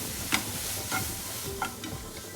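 A thick jaggery sweet filling with cardamom powder stirred in a pan, spaced scraping strokes of a spoon over a soft, steady background sizzle.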